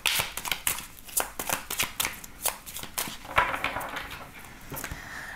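A green magic tarot deck is shuffled up close, giving rapid, crisp riffling card snaps in quick repeated bursts, steady and fairly loud throughout.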